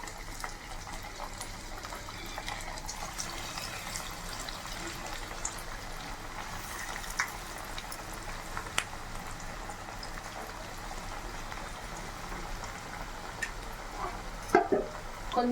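Onion vadas deep-frying in hot oil in a home kitchen, a steady broadband sizzle and bubbling that holds at an even level throughout, with a few faint clinks near the end.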